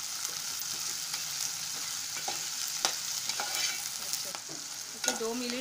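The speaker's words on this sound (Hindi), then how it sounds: "हम ये डाल के फ्राई करेंगे। एक दो मिनट तक फ्राई करेंगे" Broad beans (papdi) fry in a pan with a soft, steady sizzle, broken by occasional light clicks and scrapes from stirring.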